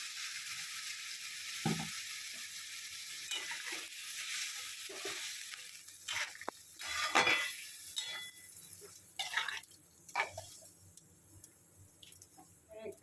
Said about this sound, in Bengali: এখন জল দেব, এই যে জল দিই